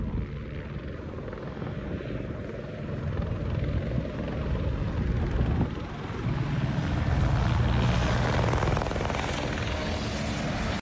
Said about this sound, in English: This is what it looks like when stunt pilots push helicopters to the limit